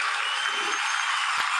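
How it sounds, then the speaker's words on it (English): A steady wash of crowd clapping and applause runs at even loudness throughout, with no gaps or pauses and no voices over it. "Y'all hear it? Some applause."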